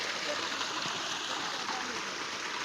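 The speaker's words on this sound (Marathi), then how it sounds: "दादाच्या हिशोबाने मोटर कमी पाणी मारते" Water pumped by a five-horsepower motor gushes and splashes steadily from an outlet onto a farm field, a constant rushing flow at moderate distance.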